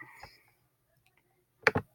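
A single computer mouse click selects an answer on screen, a short crisp double tick near the end, close and clear after quiet.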